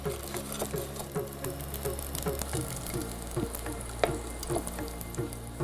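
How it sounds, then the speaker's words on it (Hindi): Garlic cloves frying gently in hot oil over low heat until browned, a soft, quiet sizzle with small irregular pops and ticks, close but faint, no talking. "जब तक ये गार्लिक ब्राउन हो रहा है"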